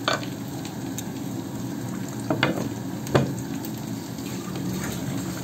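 Vegetable khichuri of rice and lentils bubbles in a pot as it comes to a boil, a steady close simmering hiss with a few soft knocks and no talking.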